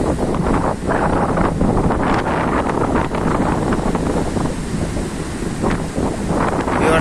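Strong coastal wind roars continuously over breaking sea waves on a shore in the days after a cyclone, a loud, steady buffeting across the mic with surges of surf and no pauses.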